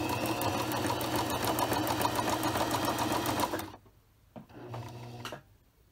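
A sewing machine stitches a buttonhole with a steady, loud, rapid mechanical whir for several seconds, then stops, followed by a short second burst of stitching and a few clicks.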